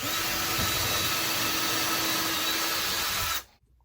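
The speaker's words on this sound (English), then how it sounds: "Whoop, that's a drill, not a driver." A power drill whines steadily while driving screws into a handmade wooden Calico Critter doll house, the motor running loud and close for over three seconds before cutting off abruptly into near silence.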